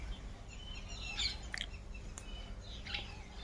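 Sparrows chirp faintly in a quiet outdoor spot as they are fed, with a few short scattered calls over a low background hum.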